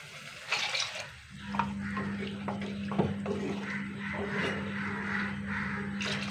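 Water pours and splashes steadily, close by, over a constant low hum.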